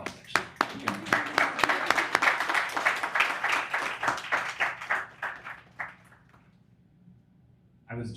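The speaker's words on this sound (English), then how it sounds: "So Shukan, we'll give Shukan a round of applause actually." A yoga class gives a warm round of applause, many hands clapping densely for several seconds and then thinning to a few scattered claps before stopping, with a voice briefly resuming afterward.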